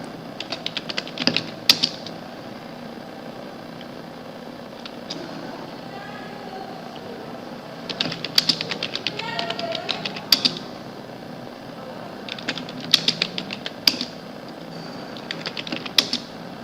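Computer keyboard typing on a Linux Fedora machine, heard as scattered bursts of rapid clicking keystrokes separated by quiet pauses, close and moderately loud with no talking.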